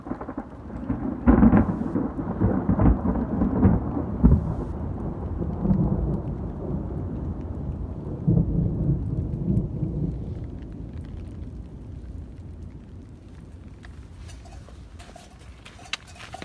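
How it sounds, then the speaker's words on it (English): Thunder rumbles low and heavy over steady pouring rain during a hillside hike, loud booming rolls early on that fade into a continuous wash of rainfall. "It started raining pretty hard again"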